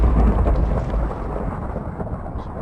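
Thunder from a Minecraft lightning bolt rolls as a loud, low, sustained rumble. Rain-like hiss sits beneath it, and the thunder fades gradually over a few seconds.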